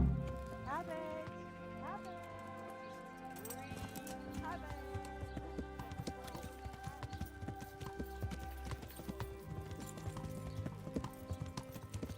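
In the medieval video game Kingdom Come: Deliverance, horse hooves beat a steady slow canter in rhythmic clip-clop, up close, under a background music score, while a voice speaks over it.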